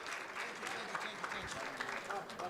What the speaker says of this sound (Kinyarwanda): Ako ndashaka ko tumwakira n'amashyi menshi cyane.